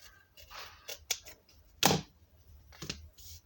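Paper being cut for a handmade explosion box gives a few quiet, close snips and crisp clicks scattered irregularly, one sharper cut in the middle, with no talking.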